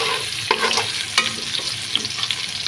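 Onions with bay leaf, cinnamon, cloves, cardamom and pepper fry in a pan, a close sizzle broken by a few sharp spatula strokes and clinks over a couple of seconds, with no talking.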